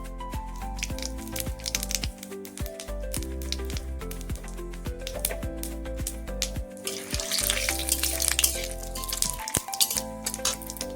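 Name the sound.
shahi jeera (caraway) sizzling as added to hot oil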